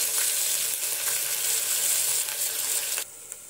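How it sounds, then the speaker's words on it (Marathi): Finely chopped onion sizzles steadily in a pan with whole spices like cardamom and black pepper for cauliflower pulao, a loud continuous hiss without talk that cuts off abruptly near the end. "इथे आपण कांदा परतून घेतलेला आहे"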